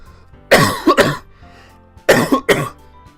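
Two loud, harsh coughing fits, each a pair of quick barking coughs, close up with a brief pause between them.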